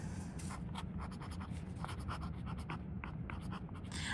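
A TWSBI Eco fountain pen with a stub nib scratches softly across paper in quick, irregular strokes, faint and close, with no talking.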